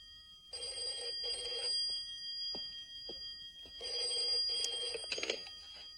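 A telephone bell rings in two long bursts of loud, bright trilling, with soft knocks and a click in between and a final short ring cut off at the end.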